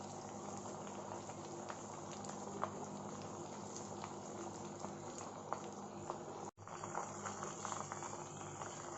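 Chicken pieces sizzle and bubble steadily in medium-hot oil, a dense continuous frying hiss with small pops throughout, briefly interrupted near the end before resuming.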